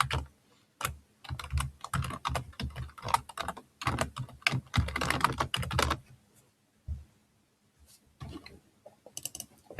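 Close, crisp keystrokes come in quick bursts on a computer keyboard during code editing, with short pauses in between and a few isolated taps toward the end.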